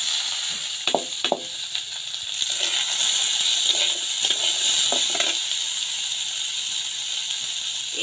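Boiled and drained homemade wheat-flour pasta goes into a hot pan, setting off a steady close sizzle with a few sharp clinks and stirring taps early on.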